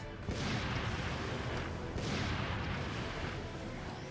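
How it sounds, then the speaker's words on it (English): Two heavy blasts from a bazooka firing shrapnel shot in the Mobile Suit Gundam Side Stories game, each a broad booming burst about 1.7 seconds apart, loud over a dense rumbling background. "I really do not like the bazooka on this thing"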